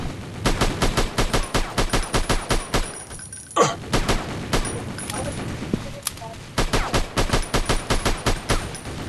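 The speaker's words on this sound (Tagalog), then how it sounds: "Namamaril guys. Namamaril sila eh." Rapid bursts of video-game gunfire crack out in quick repeated volleys, with a loud single blast midway and brief pauses between the salvos.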